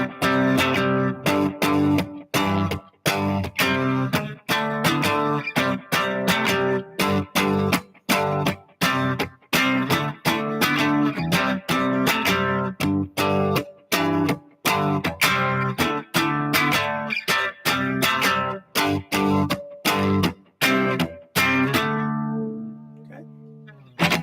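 Electric guitar strums a chord exercise at full speed with a stuttering, bouncy rhythm, choppy muted strokes and short chord bursts running steadily and loudly before a final chord rings out and fades.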